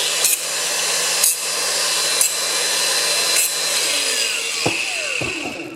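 Power tool grinding burrs off aluminium on a VW T5/T6 tailgate part: a loud, steady harsh whine running throughout, with a few brief bumps and a pitch sweeping downward near the end as it spins down.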